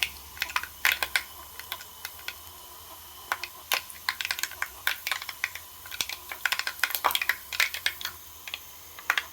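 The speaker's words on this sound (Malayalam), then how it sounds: "കടുക് പൊട്ടിക്കഴിഞ്ഞു" Mustard seeds popping in hot oil make dense, irregular sharp crackles and snaps, clustered in quick bursts over a quiet background with no speech.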